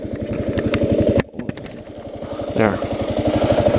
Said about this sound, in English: I'm gonna leave my bike running because the battery was dead.